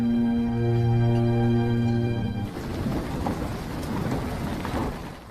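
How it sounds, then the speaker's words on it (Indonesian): Rain and thunder in a film soundtrack: a sustained musical chord fades out after two seconds, giving way to steady rainfall with a soft low rumble of thunder, moderately quiet. "akan turun hujan."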